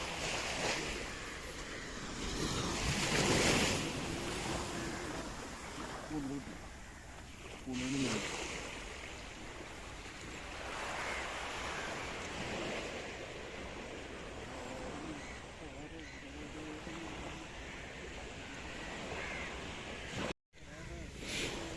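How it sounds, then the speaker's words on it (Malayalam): Sea waves wash onto a shore where sand has been stripped away, surging in a few loud swells over steady wind and surf noise while someone talks. "വീണ്ടും കടൽ കയറിക്കൊണ്ടിരിക്കുകയാണ്"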